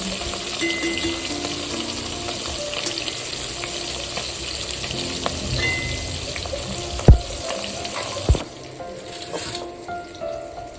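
Tengra fish frying in hot oil in a pan, a dense continuous crackling sizzle heard up close, broken by a couple of sharp utensil clanks near the end before the frying noise eases slightly.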